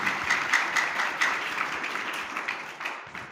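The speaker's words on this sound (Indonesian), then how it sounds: "Tepuk tangan dulu untuk kalian semua." An audience at a journalism lecture session claps in a sustained round of applause, with several sharper individual claps standing out early before the sound gradually thins out.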